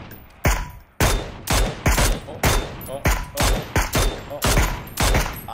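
Rapid gunfire in the PUBG video game, a burst of about a dozen sharp cracking shots in quick, slightly irregular succession, loud and close.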